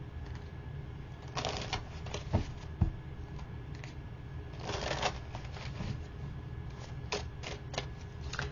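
Tarot cards shuffled by hand at close range, a run of crisp riffling and flicking bursts with short pauses between them over a low steady background, no talking.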